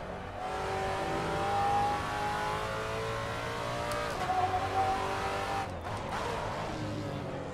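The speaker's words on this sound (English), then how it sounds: "I know that's a lockup" A race car's engine drones steadily in Assetto Corsa with gear-linked pitch changes, then a front tire locks up under braking with a brief squeal and scrub before the engine note falls and picks up again.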